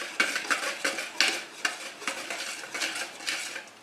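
A hand whisk beating pancake batter in a bowl, rapid rhythmic clinking and swishing strokes repeating steadily at close range.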